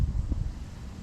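Wind gusts on a riverbank by the River Thames, buffeting the microphone as a low, rumbling roar that stays steady for the whole second, with no talk.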